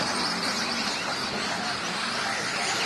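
2WD rallycross cars race down the main straight at Hyvinkää, making an unbroken, loud roar of engines and tyres that stays steady throughout.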